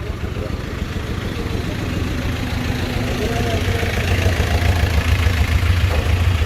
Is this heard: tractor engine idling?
yes